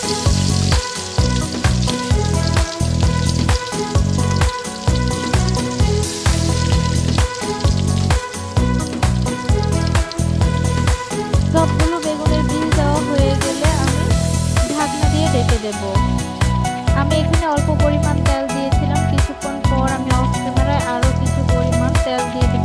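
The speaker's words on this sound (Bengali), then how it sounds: "চুলার মধ্যে একটা কড়াই বসিয়ে দেব একে একে সবগুলো বেগুনের পিস দিয়ে দেবো" Eggplant pieces fry in plenty of oil in a wok on a stove, a loud, continuous sizzle that stays steady throughout.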